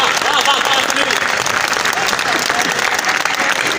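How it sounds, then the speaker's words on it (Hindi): A stand-up comedy show audience breaks into loud, sustained applause, dense clapping mixed with crowd noise that holds steady throughout without a break. "तालियां भरपूर चाहिए मुझे इस बार।"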